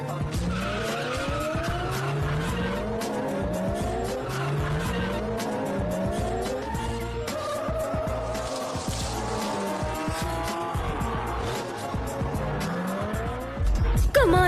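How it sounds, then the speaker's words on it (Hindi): A taxi races against other cars in a dramatized street race, engines roaring loudly throughout with repeated sharp tire squeals and skids layered over each other, continuous and close. "टैक्सी ने ईवी जोन्स को ओवरटेक करके इस रेस को जीत लिया है।"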